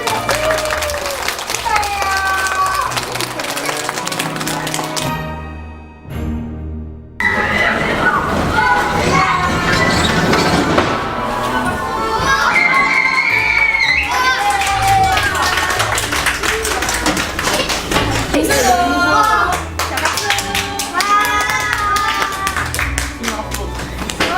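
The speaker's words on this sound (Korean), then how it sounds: "박수!" Audience clapping and cheering at a children's wish-granting event, loud and sustained with voices and music layered over it, briefly dipping around the middle before resuming.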